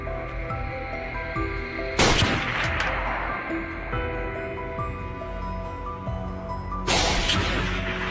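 Two loud hunting-rifle shots fired at wild boar on a French farm, about five seconds apart, each a sharp crack followed by a rolling echo over a steady background hum.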